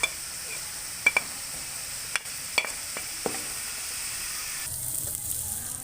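Soft sizzle from ridge gourd cooking in a pan as water and spices go in, with a few sharp clinks and taps of a spoon against the pan over a steady low hiss, no talking.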